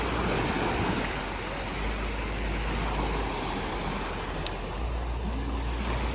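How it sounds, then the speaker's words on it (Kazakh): Sea waves at Da Nang beach in Vietnam, a steady broad wash of surf with wind rumble, continuous and fairly close, with no voices. "Теңіз деген өте әдемі"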